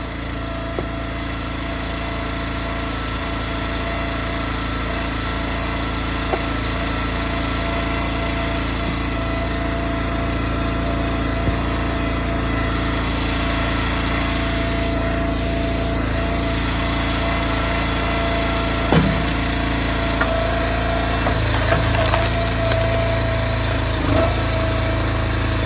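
An engine-driven log splitter with a 4-way wedge runs steadily while splitting firewood, a constant close engine drone with a few brief knocks and clunks toward the end.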